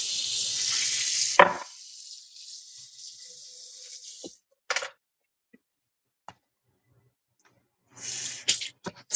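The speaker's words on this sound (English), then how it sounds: "I'm gonna rinse this off." A kitchen tap runs briefly at the start as a dish is rinsed, a close hiss of water that cuts off, followed by scattered clinks and a second short burst of water near the end.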